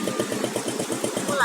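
A motorcycle engine idles with a steady rapid pulsing thump close by, loud and even before being switched off.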